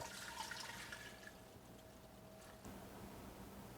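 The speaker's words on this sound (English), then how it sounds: "I add 3 quarts of water to the pan." Water pours into a large saucepan on high heat, a steady broadband rushing stream that runs at even loudness throughout, louder at the start, with no voices.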